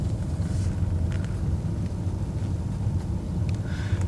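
A car drives along during an ABS fault check, heard from inside as a steady low engine and road rumble with faint wind noise throughout.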